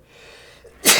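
A single sharp human sneeze bursts out at the very end after a quiet indoor pause, loud and close.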